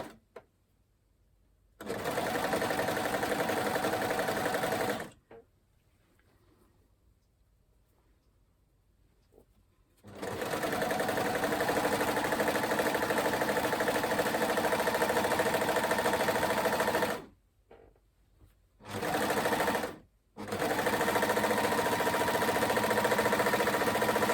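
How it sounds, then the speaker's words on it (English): An overlocker stitches together the seams of a top in long, steady, loud runs of rapid mechanical whirring. Quiet pauses separate the runs, and there are a couple of short bursts near the end. "we're going to overlock these seams together"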